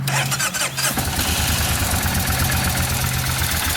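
A 2007 Kawasaki Vulcan 1600 Nomad with stock pipe and fuel injection cranks briefly, fires up and settles into a steady, fairly quiet rhythmic idle, close by.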